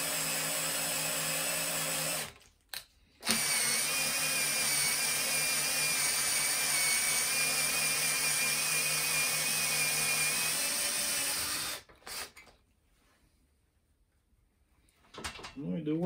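A Makita DTD153 impact driver runs at its first speed setting, a steady high mechanical whine that stops briefly, restarts and runs for several seconds before cutting out into near silence.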